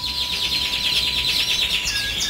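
Canaries kept for breeding sing a close, bright, rapidly trilling song with quick repeated chirps that run continuously, with no voices.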